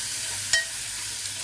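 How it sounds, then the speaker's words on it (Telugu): Curry frying in a pan gives a steady, close sizzling hiss, with a single brief scrape of a spoon stirring it near the middle. "ఇప్పుడు ఇవంతా బాగా మిక్స్ చేయాలి."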